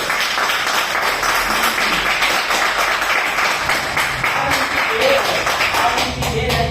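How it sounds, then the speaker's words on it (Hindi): Loud, steady applause from an audience at a gathering honouring Dr. Ashok Bhatia, dense clapping sustained evenly throughout with no break. "तो मैं चाहूंगा कि डॉक्टर अशोक भाटिया के लिए एक बार जोरदार ताली"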